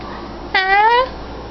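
A pet cat gives one clear, rising then falling meow at close range, over a quiet room.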